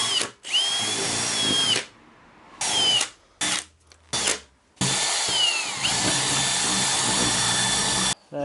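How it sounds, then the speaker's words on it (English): A power drill bores mounting holes through a carbon fibre front splitter for a custom widebody Alfa Romeo Giulietta, loud and close, in several whining bursts separated by short pauses, with no talking. "I've not drilled the holes through the carbon for the mounting points, so that's what we're going to start with doing."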